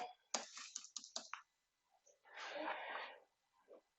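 Quick bursts of keystrokes on a computer keyboard as a networking command is entered, several sharp clicks in a rapid cluster and then a longer rustling patch, close and alone.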